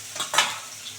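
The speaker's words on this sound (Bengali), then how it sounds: "পেঁয়াজটা একটু ভাজা ভাজা হবে" Onion frying in hot oil in a pot after a bay-leaf tempering, with a short sizzling hiss and a light clink of a spoon stirring, close and brief.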